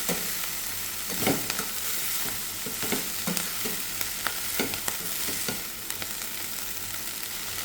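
Drumstick flowers frying in a pan for muringappoovu thoran are stirred, giving a steady close sizzle broken by repeated scraping clicks of the spoon against the pan.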